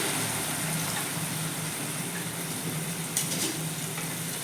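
Pumpkin greens stalks and potato curry sizzling in a pan after water is added, a steady close hiss with faint bubbling and a brief clatter near the end.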